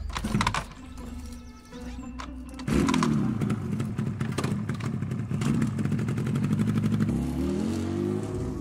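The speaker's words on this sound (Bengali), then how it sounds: "ও বাবা, বাবা, বাইকটা স্টার্ট দাও" A cartoon motorbike kicks into life partway through, then a loud, steady engine roar with rattling clatter carries on as it rides off.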